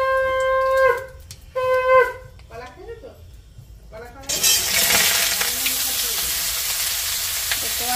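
Young jackfruit hits a hot pan and breaks into a loud, dense sizzle that carries on steadily to the end, after a few earlier clinks and rustles of kitchen handling.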